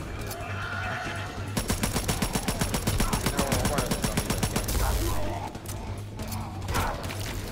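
Rapid automatic gunfire in a World War II zombie shooter, a steady burst of evenly spaced shots lasting about three seconds amid game noise, with a brief swell of another blast afterward and muffled voices near the end.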